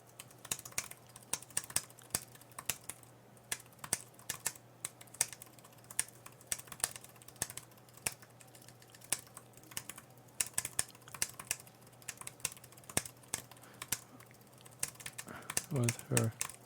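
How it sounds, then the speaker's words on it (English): Fast typing on a computer keyboard during a MacBook repair session: rapid, irregular clicks and clacks close to the microphone, dense bursts with short pauses, under a faint steady hum. Murmuring arrives near the end. "you get really good at typing"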